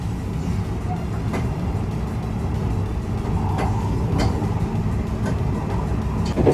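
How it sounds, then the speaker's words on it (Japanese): Aboard the limited express Shiosai, a Japanese train running through Matsugishi station, a steady low rumble rolls on with occasional faint rail clicks and brief bursts of noise, close and even throughout. "そして列車が現在通過しているのが松岸駅です"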